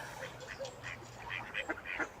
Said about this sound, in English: Oh, so it was ducks fighting